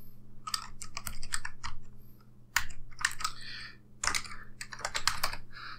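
Someone types in quick irregular bursts on a computer keyboard close up, the key clacks broken by short pauses over a faint steady electrical hum.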